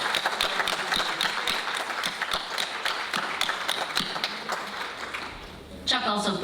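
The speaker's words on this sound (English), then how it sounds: "So would you join me in giving Chuck a round of applause?" Audience applause at a book presentation event, a dense steady clapping from a crowd that continues for several seconds before a brief dip and a fresh burst near the end.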